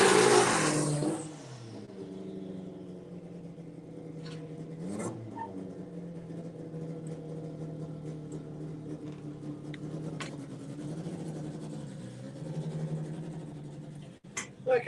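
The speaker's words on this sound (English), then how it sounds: "See another 9-second run from the BMW." A BMW drag racing car makes a nine-second run at a drag strip, a strong engine roar at the launch that fades quickly into a distant, sustained drone heard from afar.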